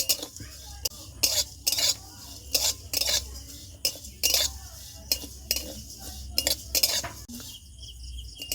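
Ajwain seeds being dry-fried in a pan, with repeated sharp scrapes and clinks of a spoon or spatula stirring against the metal in an irregular rhythm, close and fairly loud, with no talking.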